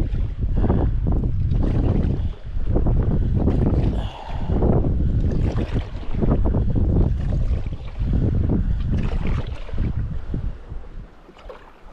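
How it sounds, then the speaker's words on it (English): Strong wind blowing outdoors, loud gusting buffeting in repeated surges against the microphone, easing near the end. "that wind is really strong as soon as I got out of there"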